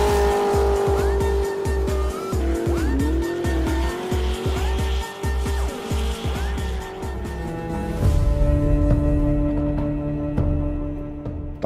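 A racing car engine roars loudly and steadily throughout, with tire squeals and rapid gear-shift changes in pitch, close and continuous with no talk.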